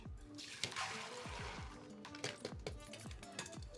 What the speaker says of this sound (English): we're going to drain our beans that we've soaked overnight